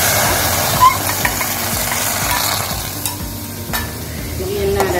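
Tomato puree sizzles and hisses steadily in a pan while being stirred, with occasional soft scraping bumps.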